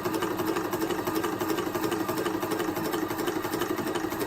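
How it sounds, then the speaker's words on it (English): A Crossfire soft-start instrument air compressor runs steadily at close range, a constant mid-pitched mechanical hum with a faint rhythmic pulse and no other sounds. "you'll see that the compressor is already slowing down"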